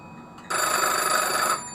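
A desk telephone rings once in a single sustained electronic trill lasting about a second, loud and close, then cuts off.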